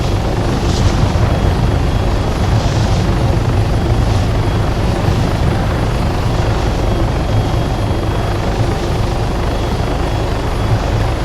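A helicopter flies in the Arma 3 video game, its rotor and turbine drone loud and continuous from start to finish with no pauses or speech.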